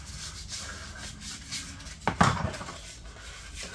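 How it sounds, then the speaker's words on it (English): Sandpaper is rubbed against the edges of a VW T4 rear light, giving faint, soft scuffing strokes with one slightly louder scrape burst partway through, against quiet background hiss. "Sandpaper. Scuff on the edges there."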